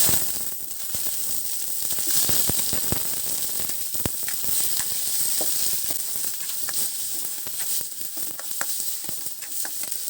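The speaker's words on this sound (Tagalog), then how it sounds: "Igigisa muna natin ang ating mga pampalasa para lalo pang bumango" Spices sautéing in hot oil for ginataang sapay, a shellfish dish, give a continuous close hissing sizzle with scattered sharp pops and crackles and occasional stirring scrapes, steady throughout without talk.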